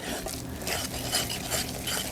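Flour and almond extract stirred into dough in a bowl by hand, giving soft continuous scraping and patting with faint clinks of a utensil, close and steady for about two seconds without talk.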